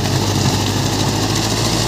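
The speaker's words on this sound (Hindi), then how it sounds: "बहुत ही एकदम शेर की तरह दहाड़ता है ट्रैक्टर" A Mahindra Arjun 605 DI 57 HP four-cylinder tractor engine running with a rotary tiller, a loud, steady, close-up diesel rumble with no breaks or voices.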